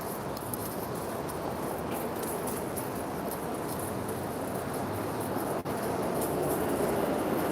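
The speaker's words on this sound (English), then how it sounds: "can you hear the trains below me?" Trains rumble below a street in New York City on a busy morning, a steady low roar spread across the whole stretch with no talk, distant and continuous with a faint brief dip near the end.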